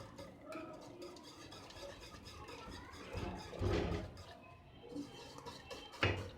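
Milk being whisked gradually into milk powder in a bowl for bread kheer, producing soft, faint, continuous scraping and swirling with no talk.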